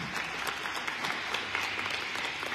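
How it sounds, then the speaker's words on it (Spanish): Inside a church during Mass, the congregation gives a brief, strong round of applause, dense close clapping with no break. "démosle un fuerte aplauso a la palabra que el Señor nos dirige hoy"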